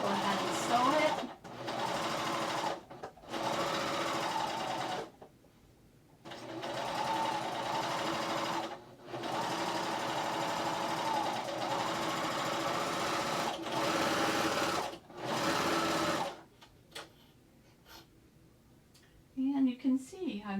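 A sewing machine stitches ruffle trim into dress fabric in steady motor-driven bursts separated by short pauses, close and fairly loud, with a few quiet gaps and brief sounds near the end.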